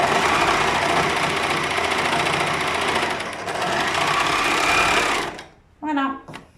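A sewing machine stitches together two crotch pieces of fabric for men's boxer shorts, a loud continuous mechanical whir for about five seconds that stops abruptly, followed by a brief stretch of speech.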